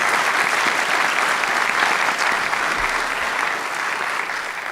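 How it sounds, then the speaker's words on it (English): Applause from a debate audience for two debaters arguing whether Jesus rose from the dead, a thick continuous wash of clapping from a large hall, loud and even, easing slightly toward the end. "Round of applause for a difficult section there."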